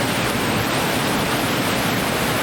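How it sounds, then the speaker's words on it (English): A waterfall on a springtime creek rushes steadily as dense, even broadband noise, loud and close, with no voices. "I do remember in particular this waterfall right here."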